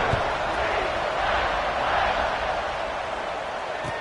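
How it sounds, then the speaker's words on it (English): Stadium crowd at an American football game buzzing after a touchdown, a steady dense roar of voices filling the whole stretch at an even, loud level. "this crowd is buzzing after that last score"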